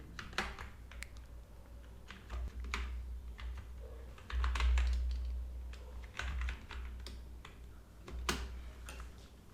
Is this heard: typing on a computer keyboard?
yes